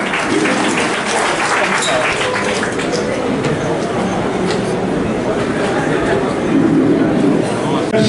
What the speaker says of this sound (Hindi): एक बार जोरदार तालियां बजाकर स्वागत करें